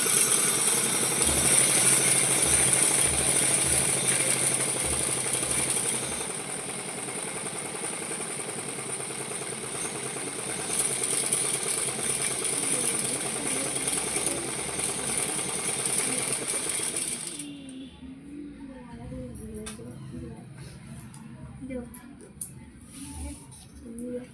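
A sewing machine stitching a Patiala salwar suit makes a continuous mechanical whir and rattle that runs steadily, then drops away to a much quieter background near the end.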